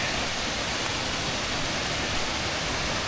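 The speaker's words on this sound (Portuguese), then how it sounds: "Cachoeira da Matinha." Cachoeira da Matinha, a waterfall near Lagoa dos Ingleses, roars as a steady, dense broadband rush of falling water, continuous and fairly loud throughout with no voices.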